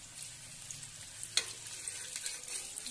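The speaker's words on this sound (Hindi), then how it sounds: "सुनहरा कलर आने तक इसे भून लेंगे" Bitter gourd pieces fry in a pan with a soft, steady sizzle and a faint crackle. One sharper clack stands out midway, probably from a turn or stir, and no one speaks.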